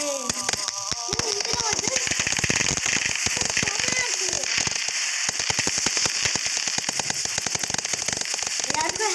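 Dense, continuous popping and crackling of firecrackers in a Diwali fireworks video game, loud and rapid like a long string going off, with occasional whistling tones at the start and scattered talk underneath.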